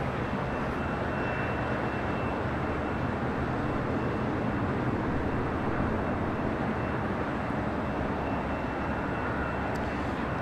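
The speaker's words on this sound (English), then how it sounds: "We also have the Korean Air Cargo 777 freighter now taxiing to the runway." Korean Air Cargo Boeing 777 freighter taxiing at LAX: a constant, dense jet engine rumble and roar with a thin high whine, steady and unbroken for the whole stretch, no voices.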